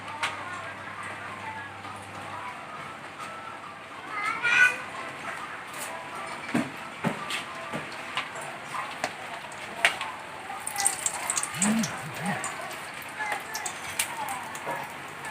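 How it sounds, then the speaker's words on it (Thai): Rain falls around a house as a steady soft hiss with scattered drips and patters, joined by occasional household knocks and faint voices in the background. "บรรยากาศที่บ้านกำลังฝนตก"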